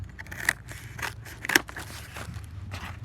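Scissors trim material for a PPE headband, giving a few close snips and crisp crackles, with one sharp, louder cut in the middle, and no talk.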